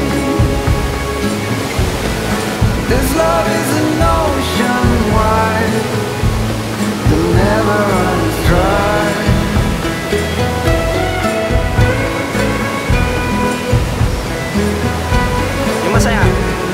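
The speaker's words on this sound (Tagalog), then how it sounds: "Dalawang waterfalls, isang twin waterfalls at yung waterfalls doon." Twin waterfalls in Pampanga pour with a steady, close roar of rushing water while people talk over it throughout.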